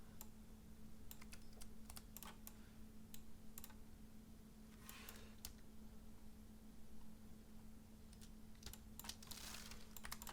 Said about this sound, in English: So I'm just using my keyboard arrow keys just to adjust things.